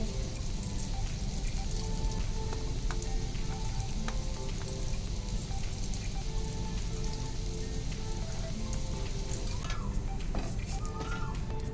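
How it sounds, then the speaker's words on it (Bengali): Bitter gourd slices fry in a pan, giving a steady, close sizzle that runs evenly through the whole stretch with faint clinks and stirring scrapes near the end. "উচ্ছে ভাজাটা হচ্ছে"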